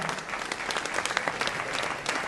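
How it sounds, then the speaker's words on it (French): Audience applause fills an awards evening honouring athletes, a dense, steady clapping from a crowd that carries at even loudness throughout with no voices over it. "Je vous remercie de vos applaudissements pour ces 4 athlètes"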